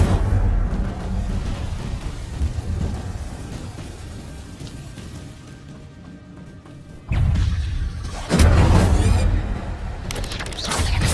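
An Incendio fire spell cast in Hogwarts Legacy, heard as a sudden loud whooshing burst after a stretch of steady ambient noise, followed by a second, stronger roaring flare of flame.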